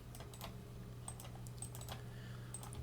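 Someone types a command on a computer keyboard during a Python install on Linux Ubuntu, a quick run of light, close key clicks over a low background hum.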